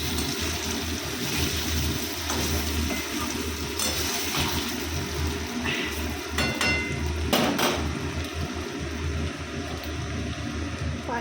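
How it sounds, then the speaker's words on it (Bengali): Paneer cubes frying in a pan for a pumpkin and pointed gourd curry, giving a steady, loud, continuous sizzle with a few brief clinks of utensils against the pan. "পনিরগুলো ভেজে নিচ্ছি।"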